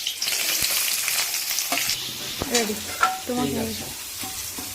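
Onion frying in a pan for Indian-style pasta hisses loudly at first, then crackles and settles under a few stirring scrapes and knocks, while a voice speaks briefly nearby.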